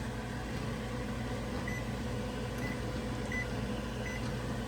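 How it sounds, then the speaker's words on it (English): Four short, faint beeps of a kitchen timer being set for crockpot strawberry jam at a rolling boil, spaced under a loud steady hum of appliance noise. "So now we're going to set this timer"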